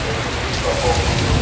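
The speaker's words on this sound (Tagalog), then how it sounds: "May hangin na, sabay ng hangin at ang ulan." Heavy rain pours steadily through Typhoon Uwan as gusting wind drives it, a dense, continuous roar close by. Any voices stay faint beneath the downpour.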